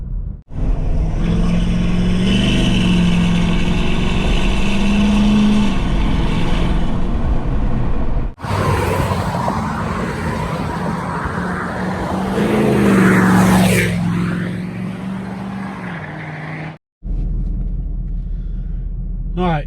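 A deleted Ford F250/F350 diesel pickup engine revs and accelerates hard, a loud, close, rumbling drone that drops out briefly midway, then surges again with a rising whine before cutting off near the end.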